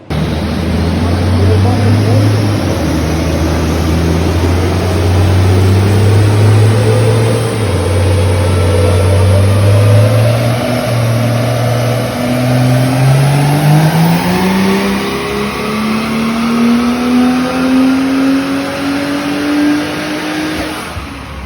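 Ford XR6 Turbo ute with a GTX3582R Gen2 turbo running E85 on a dyno, a loud, close engine climbing steadily through the revs in one long pull with a rising whine, a voice briefly heard under it.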